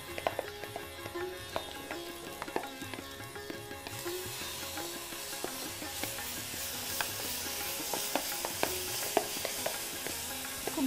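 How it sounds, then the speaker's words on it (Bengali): Chicken for a roast browning in butter and yogurt makes a continuous close sizzle, broken by frequent small clinks and scrapes of stirring, with no talk. "এটাকে বাদামি করে ভাজবো আমি।"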